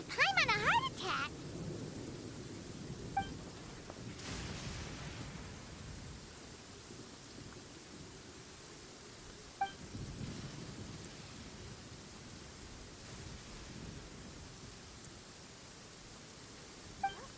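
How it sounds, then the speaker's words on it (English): Distant rumbling thunder in the Genshin Impact game world, faint low rolls swelling and fading across a quiet background, with a few soft chime-like game tones. "what was with that thunder just now?"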